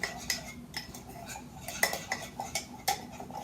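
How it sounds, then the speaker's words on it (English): A metal spoon stirs and scrapes confetti mug cake batter inside a mug, with repeated close clinks and scrapes against the bottom and sides in an uneven rhythm and no talking. "Use your spoon to make sure you're scraping at the bottom so you don't leave lumps of flour at the bottom."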